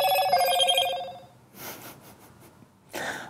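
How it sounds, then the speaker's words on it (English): A Motorola One Action phone plays its startup chime, a short clear melodic tone up close, followed by a surprised breathy reaction and rustling. "That was me getting slightly surprised by the familiar Motorola noise as it turns on"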